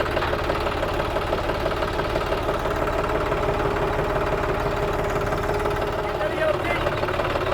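A diesel tractor engine idles nearby, knocking in a steady, even rhythm throughout, with faint voices under the rumble.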